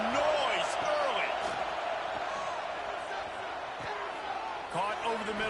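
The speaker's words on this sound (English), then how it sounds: "This crowd bringing the energy and noise early" Steady roar of a football stadium crowd cheering at a Florida versus Maryland game, continuous and fairly loud throughout with whoops rising in spots, under a commentator's voice.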